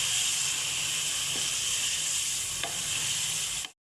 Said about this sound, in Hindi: ये जो चीज़ है ये मेरे प्याज का है मसाला जो मैंने पहले फ्राई किया है